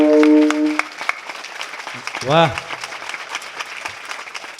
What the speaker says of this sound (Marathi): म्हणून एकदा जोरदार टाळ्या या यूट्यूब चॅनलवाल्यांसाठी